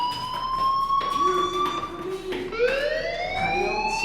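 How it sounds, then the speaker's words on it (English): A fire alarm in the video game Life is Strange sounds as a steady electronic wail, with layered tones that slide upward and repeat, loud and continuous throughout with no talk over it. "do you hear that fire alarm? That means you should be outside."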